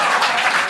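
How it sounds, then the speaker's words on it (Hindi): A crowd at a poetry performance applauds, dense steady clapping filling a brief moment, loud and close with no pause. "ये जो तालियां बज रही हैं टीआरडी के लिए"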